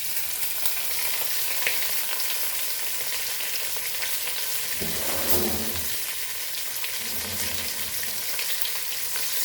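Curry leaves and onion sizzling in oil for Malvani chicken curry, a dense, steady frying hiss, with a brief bubbling surge partway through.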